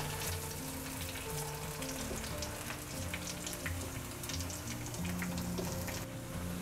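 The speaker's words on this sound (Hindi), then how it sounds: "टिक्की को मीडियम आंच पर अच्छा सुनहरा होने तक फ्राई करेंगे।" Broccoli tikki patties fry over medium heat in a pan, giving a steady, continuous sizzle with crackling pops throughout, close and fairly loud, with no voices.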